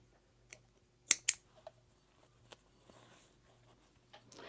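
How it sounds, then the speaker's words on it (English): Scissors trimming elastic at the edge of a serged tee: a few quick, sharp snips close by, two loud cuts in succession followed by softer clicks and light handling of fabric, over a quiet room. "I'm going to trim the elastic down to the edge."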